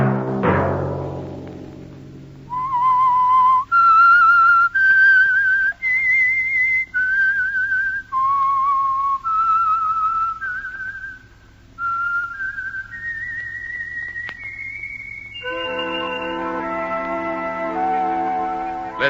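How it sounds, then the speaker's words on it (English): A solo whistled melody, the theme of the Whistler radio show, rises and falls in clear sustained notes, closing with a lingering chord from a band, with no talking. "Let that whistle be your signal for the Whistler each Sunday night"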